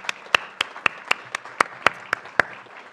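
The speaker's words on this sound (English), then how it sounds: "I didn't think I was going to get any applause throughout this whole thing" Audience clapping at a city address in Monrovia, a sparse, slow and even run of about ten distinct hand claps from a small group, fairly close and quiet between hits.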